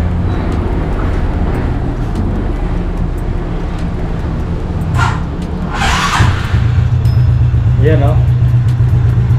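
A 2011 Skydrive 160cc motorcycle engine runs steadily nearby, then revs up sharply with a rising whine near the end, while someone talks over it.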